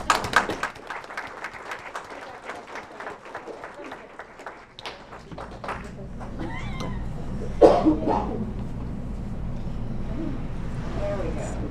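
An audience at a school district event claps and cheers, with a sustained wash of applause building over several seconds after a stretch of speech at the start.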